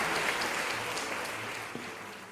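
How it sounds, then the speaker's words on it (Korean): An audience claps steadily at a lecture to welcome the next speaker, a dense wash of applause at moderate distance that holds for a couple of seconds and then begins to thin out. "박수로 힘차게 맞아주시기 바랍니다."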